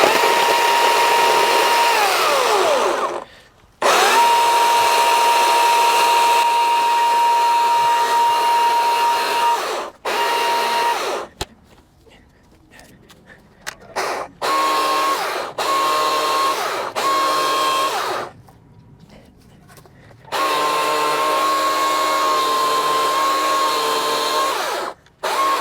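Chainsaw cutting up an Italian Cypress tree for firewood, a loud close engine whine running in long stretches with brief pauses and idling gaps between cuts.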